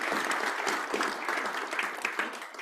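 A church congregation breaks into sustained applause, dense overlapping claps from many hands filling the room evenly throughout without any voices rising above them.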